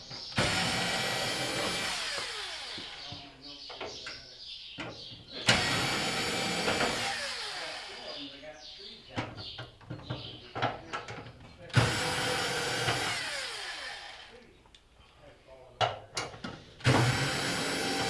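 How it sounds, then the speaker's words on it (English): A power tool whines in long, loud runs while removing the mounting screws from a Jenn-Air microwave under repair for not heating. Short pauses with clicks and clatter separate the runs, and no one speaks. "Now we'll remove the remaining mounting screws."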